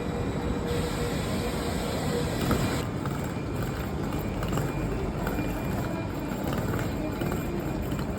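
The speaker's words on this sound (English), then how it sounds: "We boarded our high-speed train to Rome right on time, and soon we were off to our next destination." Steady rumbling rush of a high-speed train running between Naples and Rome, heard from inside with continuous rolling noise and faint rattles throughout.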